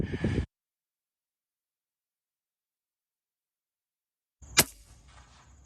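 An FX Airguns Panthera air rifle fired at a rabbit while hunting small game: a single sharp, close crack near the end, following a brief rustle and a long silence, with a short fading tail.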